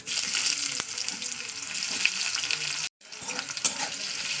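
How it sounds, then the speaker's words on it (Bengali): A whole onion fries in hot oil with bay leaf, cinnamon and dried chillies, giving a steady, close, loud sizzle with a few stirring clatters and a brief dropout near the end, with no talk. "তেলে আমি একটা এলাচ এই সরি একটা তেজপাতা দারচিনি শুকনো লঙ্কা এইসব দিয়ে দিচ্ছি দিয়ে দেবো একটা গোটা পেঁয়াজ"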